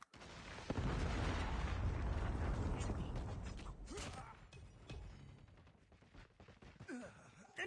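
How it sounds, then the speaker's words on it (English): Loud, rumbling Predator missile explosion in Call of Duty. A sharp impact hits early, then a long roaring blast with debris and crackles slowly fades, and scattered game sounds follow. "Predator missile inbound."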